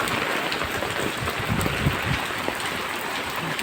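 Heavy downpour drumming steadily on surfaces all around, a dense loud hiss with scattered nearby splashes, no talk.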